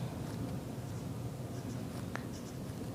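Pen or marker writing numbers by hand during a Class 9 maths lesson on irrational numbers, a soft continuous scratching with a few brief taps, close and alone with no talk.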